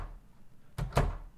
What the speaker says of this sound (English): That's door close, because I remember that sound plays in cutscenes.